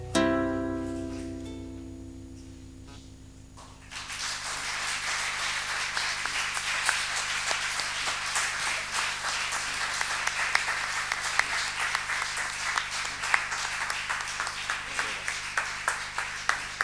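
Audience applause at a concert in a library venue breaks out after a song: a sustained, dense wash of clapping from a sizeable crowd, rising after a quiet tail of music and continuing steadily to the end.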